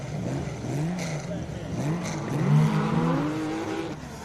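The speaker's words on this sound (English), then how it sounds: "we can hear and feel that Porsche through the walls of the commentary box, leaving the line there" A classic Porsche race car launches off the line at the Simola hillclimb, its engine rising through revs in the distance, muffled as if through walls, with a commentator talking over it.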